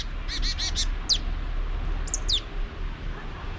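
Several short calls from a bird in the trees in Bosnia and Herzegovina, a quick burst of chirps followed by a couple of sharper cries, heard outdoors over a low steady background rumble.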